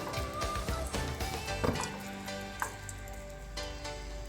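Finely chopped garlic sizzles in hot oil for a dal tempering, browning with a steady, crackling hiss, along with a few faint clinks of a utensil against the pan.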